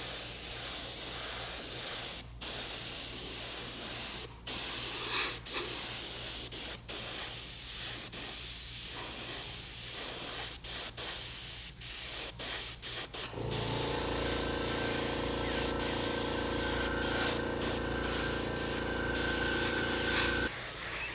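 A spray gun hisses as it hazes bright orange paint onto a Harley helmet, a long continuous airy spray in short bursts at first, then a steady louder stretch with a hum underneath.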